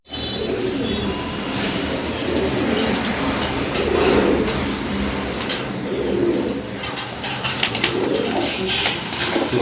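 Satin pigeons coo repeatedly in soft, low, burbling calls, close by, over a steady background rumble.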